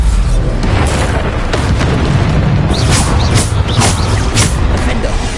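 Explosive spell blasts during combat in the Hogwarts Legacy video game, heard as a dense, continuous roar of booms and bursts filling the whole stretch, loud and close, with several sharp bright hits standing out near the end.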